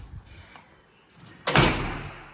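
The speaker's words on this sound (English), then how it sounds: "We'll pop through the front door." A house front door is opened once partway through, a sharp latch-and-swing burst after a quiet room-tone lead-in, followed by a lingering airy rush.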